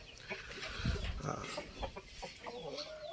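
A fighting rooster clucking on a farm, a run of short, close clucks and rustles over steady background noise, with no talk.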